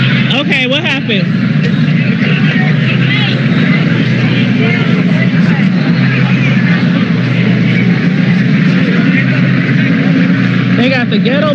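Police helicopter circling overhead during a shooting at the Native Omaha Days celebration, a loud continuous rotor and engine roar filling the scene, with people talking and shouting underneath.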